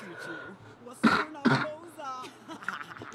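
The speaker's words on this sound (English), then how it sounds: "Still coughed. Water's not helping." A person gives two sharp coughs in quick succession, close to the microphone, with soft vocal sounds and background noise before and after.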